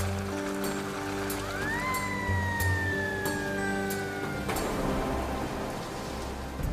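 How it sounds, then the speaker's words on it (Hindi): Steady rain pours down with a constant hiss, while a siren wails briefly in the distance and tonal background noise hums underneath. "ये बारिश मुझे रुकने का नाम नहीं ले रही और ये पानी बढ़ता जा रहा है"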